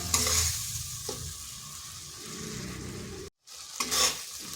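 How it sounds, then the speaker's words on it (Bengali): Spice masala with chopped tomatoes is stir-fried in a kadai, a steady close sizzle broken by spatula scrapes, with a brief cut to silence before the sizzling and stirring return. "এই মশলাটা একটু সময় ধরে কষে নিতে হবে"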